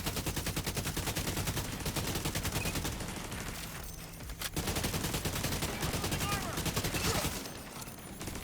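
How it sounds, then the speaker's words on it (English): An assault rifle firing in The Division video game, dense continuous automatic gunfire in rapid bursts, loud and close, with a brief lull midway and a faint voice underneath. "We're going to just use the assault rifle."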